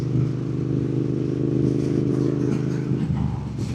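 A motorcycle rides on the road at about 60 mph, its engine droning loud and steady alongside wind rumble, then easing off near the end.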